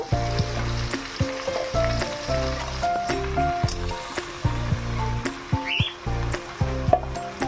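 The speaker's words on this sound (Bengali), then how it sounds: "এর মধ্যে মাংসগুলো আমি দিয়ে দেবো, মাংসগুলো একটু ভেজে নেব।" Chicken pieces fry in a hot pan with a loud, continuous sizzle, punctuated by repeated knocks and scrapes of stirring, close up and without speech.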